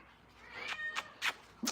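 Kittens meowing indoors, several short high-pitched cries in a row, fairly close and moderately loud, with no talking over them.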